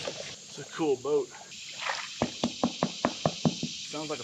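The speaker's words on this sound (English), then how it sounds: "Sounds like a fiberglass boat." Knuckles rap on a fiberglass kayak hull in about nine quick, evenly spaced hollow knocks close by, with a person talking just before and right after outdoors on a river.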